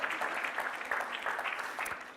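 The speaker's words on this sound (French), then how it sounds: "Oui, ça mérite quelques applaudissements" A brief burst of audience clapping for a guest at a conference, a short, fairly quiet patter of hands with uneven bumps, heard at some distance.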